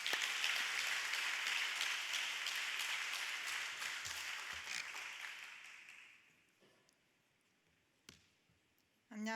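A church congregation applauding, a dense wash of clapping that holds steady, then fades out over a few seconds, leaving near silence broken by a couple of isolated knocks.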